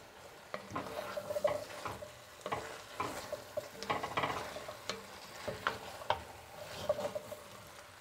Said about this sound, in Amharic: አሁን ድንቹን እጨምራለሁ።